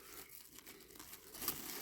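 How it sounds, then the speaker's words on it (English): Clear cling film is stretched and wrapped over a small 1974/75 Tonka dump truck under restoration, giving quiet crinkling and tearing rustles up close. "So what I normally do is cling film that over the top, like so. Get it all wrapped"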